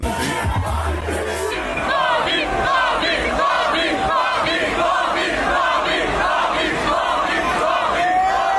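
Dense, loud crowd roaring and cheering at a Bobby Shmurda rap show, a continuous wall of voices with rhythmic chanting swells throughout.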